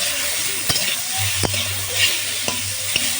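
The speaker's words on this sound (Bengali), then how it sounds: "বেগুনগুলো এরপর একে একে দিয়ে দিচ্ছি, দিয়ে উল্টে পাল্টে বেশ লাল লাল করে ভেজে তুলে নেবো" Eggplant slices fry in a wok with a loud, steady sizzle, broken by a few sharp knocks of a spatula turning the pieces.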